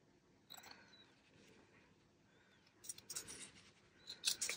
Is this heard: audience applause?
no